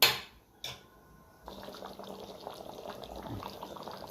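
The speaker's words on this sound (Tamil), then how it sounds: "நல்லா கொதிக்கட்டும்." A pot of thick Chettinad chicken gravy bubbles and simmers quietly, soft popping and gurgling after a couple of brief clanks at the start.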